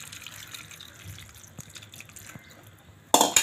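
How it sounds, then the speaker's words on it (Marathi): Warm sugar syrup poured over hot fried gulab jamun, a soft trickling and dripping of liquid that ends in a short, louder splash. "त्याच्यामध्ये आता आपण छाचणी टाकून घेऊया"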